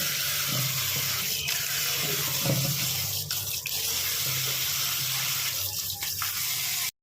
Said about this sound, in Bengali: আর এটার সঙ্গে সঙ্গে এটা খানিকটা ঠান্ডা জলও দিয়ে দেবো